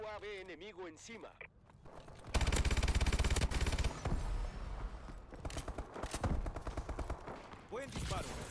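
Rapid automatic gunfire in a Call of Duty: Advanced Warfare match on PS4 rattles in loud, dense bursts after a voice speaks, with repeated shots continuing under game sounds.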